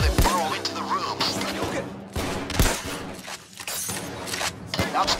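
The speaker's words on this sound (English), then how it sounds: "Neighbors must have heard gunshots." Rapid gunfire from the top-down shooter Hotline Miami with a Payday mod, bursts of shots with a glassy clink mixed into loud game music and effects that run throughout.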